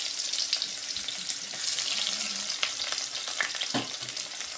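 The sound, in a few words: onions frying in a pan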